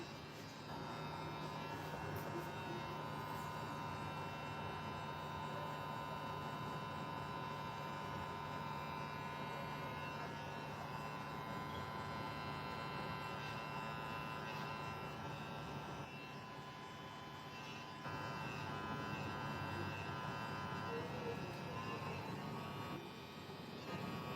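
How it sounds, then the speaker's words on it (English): A VGR 886 hair trimmer runs on its first speed setting, giving a steady, even electric buzz that holds for the full stretch with only a brief dip in level. "The VGR 886 trimmer, first speed"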